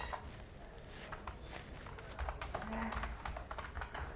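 Computer keyboard keys tapped in a quick, light run while entering a date, soft and close against a low background hum.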